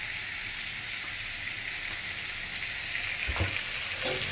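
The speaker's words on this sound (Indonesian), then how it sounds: "lagi digoreng." Spicy mackerel fish skin frying in hot oil, a steady close-up sizzle and crackle that continues without a break, with a brief thump of stirring near the end.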